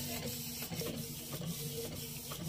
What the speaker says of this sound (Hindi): देखिए पेपर प्रिंट होके निकल रहा है मेरा